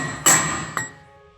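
A mini sledge strikes a steel exhaust pipe end shaper set inside a Mustang pipe end, giving two sharp metallic hits and a third at the close, each ringing out briefly, near and alone.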